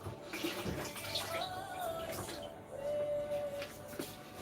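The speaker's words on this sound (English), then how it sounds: "I'm gonna put a little bit water in here." Water poured into a pan of seasoned chicken while cooking at home, a soft, steady, close pour with a faint hiss lasting a few seconds.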